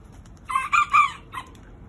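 Chickens cluck and squawk in a short burst of three or four loud calls while a Border Collie circles and herds them, with quiet farmyard background between the calls.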